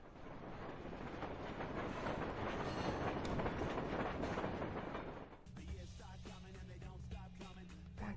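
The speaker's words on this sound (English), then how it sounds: "Train rides are fun." A train ride heard from inside a moving carriage: a dense, loud rumbling roar of wheels and rail for about five seconds, then a sudden drop to a quieter hum with faint clatter and a steady low tone.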